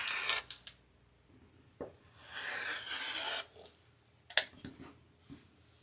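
Cutting fabric for a quilt block, with quiet scraping and snipping bursts, a few sharp clicks and rustling handling sounds spread unevenly, faint and close with no speech.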